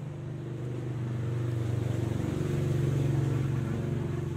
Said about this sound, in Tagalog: may dumang sasakyan, motor